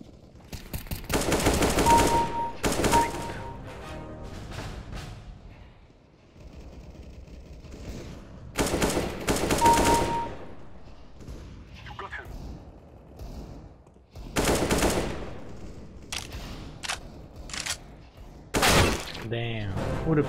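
Bursts of automatic and pistol gunfire in Counter-Strike: Global Offensive, loud, sharp volleys in several clusters spread across the stretch, with gaps of quieter game ambience and some talk between.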